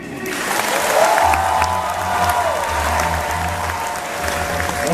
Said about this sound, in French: Merci de faire un triomphe d'applaudissements pour Selim